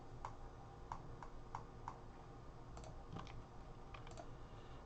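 Computer keyboard clattering with quick, irregular keystrokes, close and fairly faint over a low steady hum, with no talk.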